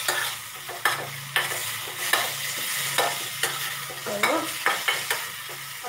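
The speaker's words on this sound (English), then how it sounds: "as I'm frying it, you can see the change in the leaf color" Fresh green leaves fry in a pan for chicken chinthamani, sizzling steadily while a utensil stirs them in repeated sharp scrapes about every half second.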